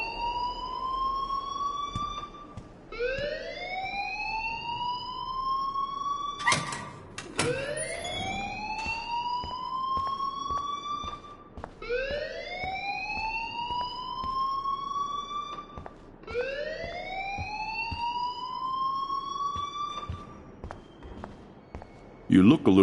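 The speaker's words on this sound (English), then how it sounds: "please turn off that alarm since that's your job" Repeating rising electronic alarm tone in the video game Life is Strange, each whoop sweeping upward and cycling about every four seconds, loud and steady with a character's voice speaking over it.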